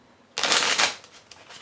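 Playing cards being shuffled: a loud, close burst of riffling flutter lasting under a second, followed by a softer trailing rustle.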